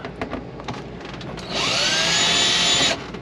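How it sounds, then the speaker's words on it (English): A few light taps and handling noises, then a power drill on its lowest setting whirs loudly and steadily for about a second and a half, driving a screw in an RV, before stopping. "let me see you screw that screw. Woo! Woo! What setting is that drill on?"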